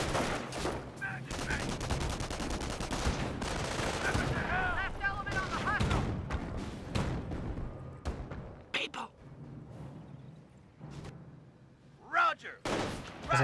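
Sustained MG42 machine gun fire and battle noise in the World War II strategy game Company of Heroes, loud and continuous through the first half, then thinning into scattered bursts and impacts.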